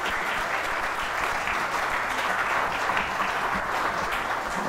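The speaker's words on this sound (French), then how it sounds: "je vous propose qu'on les applaudisse pour leurs interventions" A conference audience applauds the speakers at the launch of an emissions-reduction program, dense continuous clapping from many hands, loud and even for the whole stretch.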